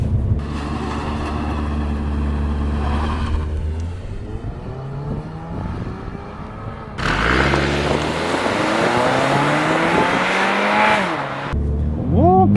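Toyota GR86 launching hard from a standstill with wheel spin, engine roaring loud up to red line, a brief drop as it shifts, then pulling hard again in second gear, with voices briefly underneath.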